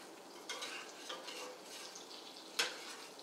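Faint, soft stirring strokes sweep through ingredients in a frying pan amid a low kitchen hiss, with one brighter clink of a utensil against the pan near the end.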